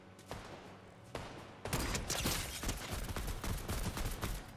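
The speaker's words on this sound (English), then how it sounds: "Listen to the gunshots." A few isolated gunshots in a video game give way to rapid bursts of gunfire, sharp and loud, with no talking.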